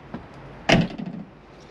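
A faint click, then a sharp mechanical clunk of a 2008 Adria S690SP motorhome door latch releasing as it is unlocked, followed by a brief rattle as the door swings open.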